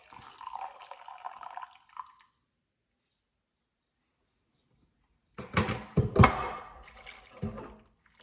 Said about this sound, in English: I'm going to put another full cup of hot water in as well